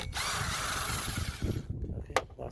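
A 13mm nut is worked loose on the rear wiper arm of a Mitsubishi Lancer Carisma, a close, continuous gritty ratcheting and grinding for over a second before it tapers into a few lighter clicks.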